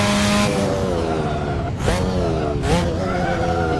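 A car on tight, narrow roads at high speed oversteers, its engine droning loudly and steadily with brief rising surges and bursts of broadband tire noise.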